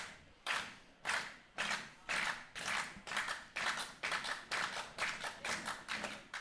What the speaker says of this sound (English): Fans start to clap here yet again.